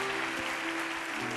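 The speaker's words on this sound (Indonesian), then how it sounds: "Boleh berikan tepuk tangan sekali lagi." Steady applause fills a church hall after a sermon by a pastor, a brief continuous wash of clapping at moderate volume with a low hum beneath it.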